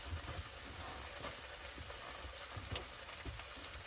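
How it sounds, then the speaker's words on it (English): Bacon frying in a pan over a low, steady sizzle with faint crackles, quiet and continuous throughout, nobody talking. "bacon's cooking away"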